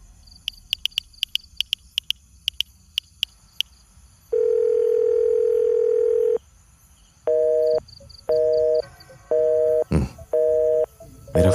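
A telephone call tone that goes unanswered: a quick run of short dialing beeps, then a long steady tone, then repeated ringback tones in even bursts with gaps, over faint outdoor crickets.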